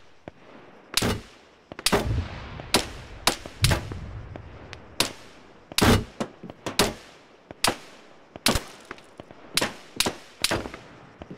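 Enemy gunfire in a video game: a string of sharp, loud shots in irregular bursts, some close together, with decaying echoes between them and no talking.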